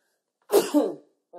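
A single sharp sneeze, close and fairly loud, bursting out in two quick parts, with silence before and a faint voice starting just after.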